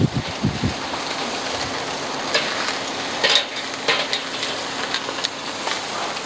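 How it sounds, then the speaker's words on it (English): A ribeye steak sizzles over flame on a kettle grill, giving a steady crackling hiss with brief louder spurts as the meat is handled or turned. "When I turn that over, you can see that surface sizzling."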